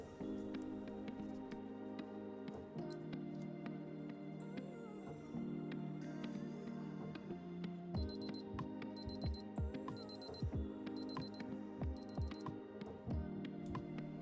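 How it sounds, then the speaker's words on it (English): A Casio JP-200W digital sport watch sounds its countdown timer alarm, short bursts of thin high-pitched beeping repeated in a steady rhythm, faint and close, with a low background hum and no talking. "It makes the same sound as the alarm once the countdown reaches 0."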